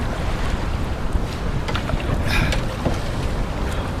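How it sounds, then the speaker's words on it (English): Steady strong wind buffets the microphone outdoors near water on a cold day by an island, a constant low rumbling roar with no voice. "the wind has really picked up"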